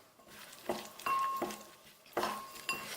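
Metal clinks and taps against a bowl in an uneven rhythm, close and fairly quiet, as a utensil lightly mixes starch batter for fried fish.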